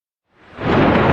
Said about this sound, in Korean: K가 내는 에너지의 크기만큼 천둥번개 소리가 났다.